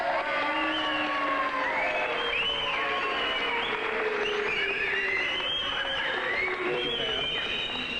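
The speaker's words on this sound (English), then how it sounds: "let's keep the whistling and the yelling down, please" A student audience at a school assembly whistles and yells, with rising and falling whistles over a steady crowd roar that fills the whole stretch.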